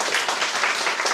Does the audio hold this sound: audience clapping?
yes